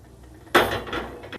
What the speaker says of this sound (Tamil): இப்போ அடுப்பு பற்ற வச்சு ஒரு அகலமான ஒரு பாத்திரத்தை வச்சுக்கலாம்.